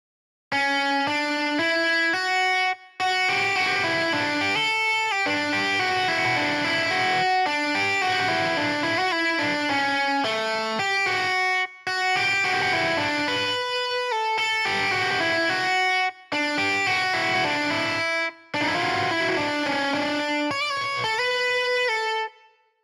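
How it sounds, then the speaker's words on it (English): MIDI playback of guitar notes in the Rocksmith+ video game runs as steady, bright plucked melodic phrases, continuous and loud with brief gaps between sections. "let's turn off note by note and just play it with the MIDI playback on, right? All you'll hear is the notes you're supposed to play."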